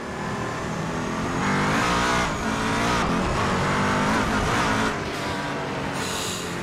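Koenigsegg One:1 drifting at Lake Louise in the racing game Assetto Corsa, a loud continuous engine roar with rising and falling revs and tire squeal throughout.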